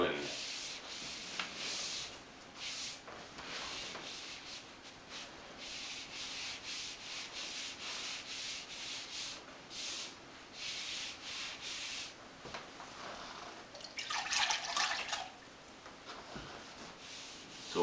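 A damp sponge rubs over drywall joint compound with a steady scrubbing and swishing that runs continuously, close and fairly quiet, with no talking.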